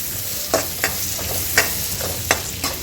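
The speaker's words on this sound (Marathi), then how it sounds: "याला दोन मिनटं परतून घ्यायचं आहे छान तेल आपल्याला कमीच टाकायचं आहे" Beetroot cutlet mixture with peas sautés in a little oil in a pan, a soft steady sizzle broken by five or six sharp spatula scrapes and clicks at uneven intervals, close by with no talking.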